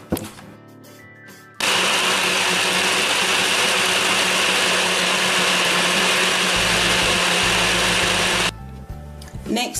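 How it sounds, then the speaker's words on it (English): A NutriBullet blender blends coconut pieces with about two cups of water, a loud, steady motor whir running for roughly seven seconds, with quieter kitchen sounds before and after. "Place the coconut into a blender. I'm using a NutriBullet"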